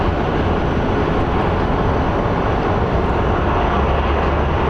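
An American Airlines jet on its second landing approach at Phoenix Sky Harbor International Airport, a steady, loud broadband engine roar holding evenly from start to finish.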